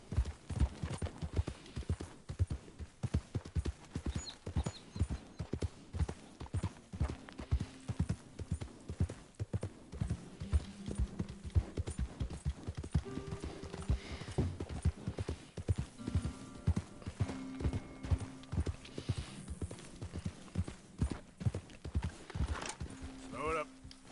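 Horse hooves clip-clop at a steady trotting rhythm while riding in Red Dead Redemption 2, close and continuous throughout, with speech and occasional game sounds over the hoofbeats.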